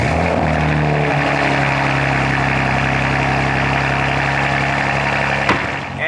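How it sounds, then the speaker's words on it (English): A BMW G87 M2's S58 engine idles steadily and loudly right after a cold start, a deep continuous drone with strong low harmonics that holds unchanged, then a brief sharp knock near the end as the level dips slightly. "All right guys, cold start first,"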